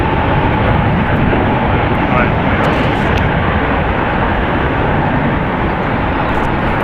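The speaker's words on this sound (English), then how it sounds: "Just as that 757 touches down, making Emirates second for arrival here at SFO." Boeing 757 airliner touching down at San Francisco International Airport, a dense, loud roar of engines and rushing air that holds steady throughout, with faint talk partly underneath.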